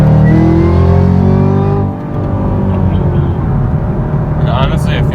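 A car engine fitted with a RotoFab cold air intake revs and then settles, its harmonic tones sweeping down as the throttle drops, with a rushing intake sound close by; a voice talks over part of it.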